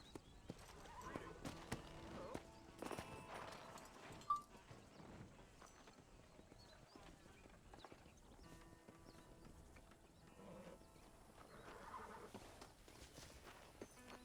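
Horse walking in Red Dead Redemption, hooves clip-clopping in a slow, irregular rhythm, with an occasional neigh, faint and close, under a quiet game soundscape.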